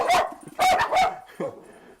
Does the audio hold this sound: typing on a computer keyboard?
no